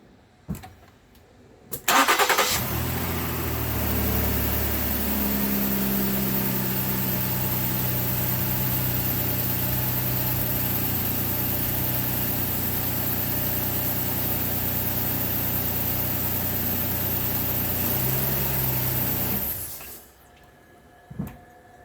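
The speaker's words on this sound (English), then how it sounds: "So we are going to start the engine up now." A 2011 Ford Edge with its 3.5 engine cranks briefly, fires up, and settles into a steady, loud idle for roughly seventeen seconds before being shut off, with a click or thunk at either end.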